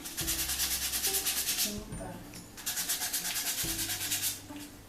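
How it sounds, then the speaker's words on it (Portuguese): Sandpaper rubs rhythmically over a wooden gift box in two close, steady passes with a short pause between, soft scratchy strokes on bare wood. "a gente tem que prestar atenção nos cantos para ficar bem lixadinho"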